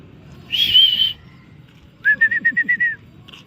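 Racing pigeons at feeding time give clear whistled calls, one long note and then a rapid run of short pulsed whistles, over a steady low rustling background.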